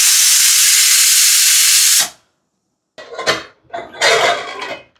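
A pressure cooker releasing steam in a loud, steady hiss for two seconds, then cutting off abruptly, followed by metallic clinks and rattles of the lid being handled.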